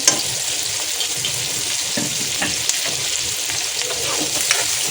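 Chopped onion, curry leaves and two green chillies fry in hot tempering oil, a steady close sizzle with occasional stirring scrapes throughout, no voices.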